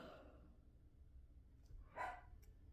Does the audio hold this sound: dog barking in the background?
yes